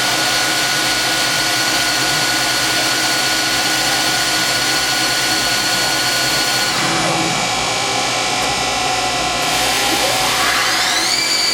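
Spindle of a Fadal 2016L vertical machining center CNC mill, 2005 model, spinning up to 2,000 RPM: a steady, loud machine whine holding throughout, with a pitch shift and a rising tone near the end.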